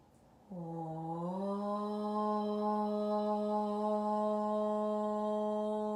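A yoga class chanting one shared Om together, a single long sustained tone that swells in after a quiet start and holds steady and smooth to the end, unaccompanied by other sounds.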